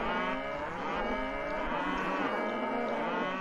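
A cow from Age of Empires II moos in one long, loud, drawn-out low call that fills the whole stretch, with no talking.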